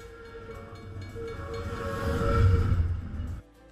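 Rotary snowplow train moving along rails, a rumbling mechanical roar with steady droning tones that swells to a loud peak before cutting off abruptly near the end.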